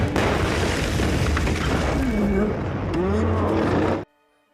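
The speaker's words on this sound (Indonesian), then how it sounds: "Taylor langsung menyalakan api dan terjadi ledakan dahsyat" Huge explosion as scattered gasoline around a car ignites in a film scene: a loud, sustained roaring blast with deep rumble and crackling fire, lasting about four seconds before cutting abruptly to silence.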